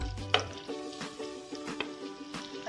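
Butter and jaggery melting together in a hot pan for a Bengali patishapta filling, giving a soft steady sizzle with faint stirring scrapes and a sharp clink near the start, no talking.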